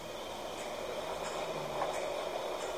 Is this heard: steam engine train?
yes